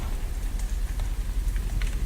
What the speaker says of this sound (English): Welcome, old friend, to my domain, a land lit by moonlight and sodden by rain.